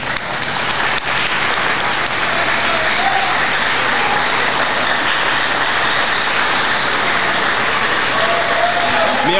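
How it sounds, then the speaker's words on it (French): Sustained applause from an audience at a philosophy lecture in Haiti, dense and steady clapping filling the hall from start to finish at a loud, even level. "On l'applaudit."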